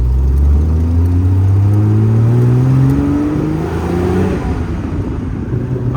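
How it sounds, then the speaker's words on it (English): A 1972 Triumph TR6 engine idles and revs steadily nearby, its low droning note rising in pitch as it picks up speed, with no one talking. "the engine sounds great"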